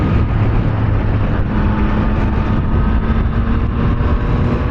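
Yamaha MT-09 SP motorcycle engine riding at a steady, continuous drone, loud and close throughout with constant wind and road rush, no voices.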